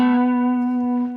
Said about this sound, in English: this is a simple delay that is now fixed, and it's about 900 milliseconds